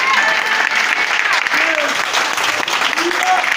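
A church congregation applauds loudly in acclamation during a French-language sermon, with steady, continuous clapping. Scattered shouts and vocal cheers rise above it.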